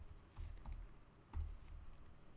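Keys tapped on a computer keyboard while entering a value into a program, a few quiet clustered keystrokes in two short bursts, close and alone.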